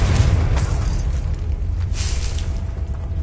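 A Confringo spell explodes in Hogwarts Legacy with a loud, low, rumbling blast that fills the space, then a dense roar that holds steady and fades only slowly, with faint crackles on top.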